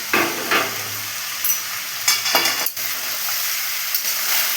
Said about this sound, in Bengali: আগে সব নেড়ে নিই